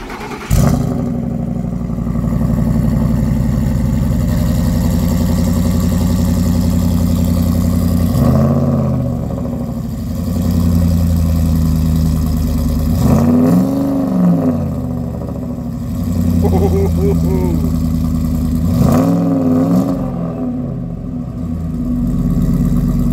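A 2008 Ford Expedition with a MagnaFlow-type aftermarket exhaust idles with a deep, loud rumble, then revs sharply several times in spaced bursts before settling back to a steady throb each time; no talking.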